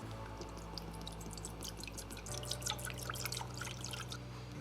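Liquid poured onto an old rusty iron pan for rust and coating removal, a steady trickle with scattered drips and splashes over a low constant hum, close by and without talk.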